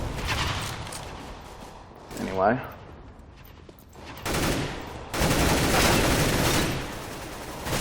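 Rapid AWP sniper fire in a CS:GO deathmatch comes in dense, loud bursts of overlapping shots, with someone talking over and between them.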